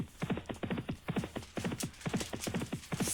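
Racehorses galloping in the Persian War Novices' Hurdle, a rapid rhythmic drumming of hooves in repeated close bursts, fairly faint, with no clear voices over it.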